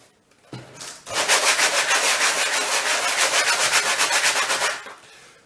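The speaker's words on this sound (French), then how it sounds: "Maintenant, on peut poncer." A primed painting canvas being sanded, a little water added, in fast rhythmic back-and-forth scratchy rubbing strokes, loud and close, lasting several seconds alone before stopping.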